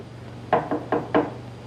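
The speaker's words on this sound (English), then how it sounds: "There's someone at the door." Four sharp knocks on a door in a 1945 film scene, evenly spaced in two quick pairs, close and clear over a low steady hum, with no voices.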